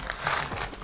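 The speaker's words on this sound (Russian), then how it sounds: "Пакеты с деталями." Plastic bags of LEGO parts from a NEXO Knights set crinkle as they are opened, a close, continuous rustling and crackling.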